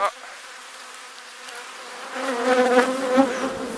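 Honey bees buzz during an open beehive inspection, the drone starting low and swelling louder and denser in the second half as the colony is disturbed, with faint handling sounds early on.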